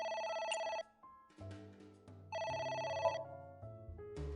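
A telephone rings in a video game, electronic ring bursts repeating with short gaps between them, and other game tones and sound effects layered among them.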